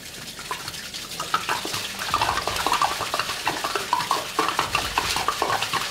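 Water is poured into a new aquarium, a busy splashing and burbling stream with rapid bubbly patter, steady and close, growing slightly louder partway through.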